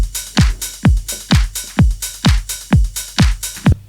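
Electronic groove of hi-hats and ride over a steady booming kick and clap, about two beats per second, loud and continuous with no voices.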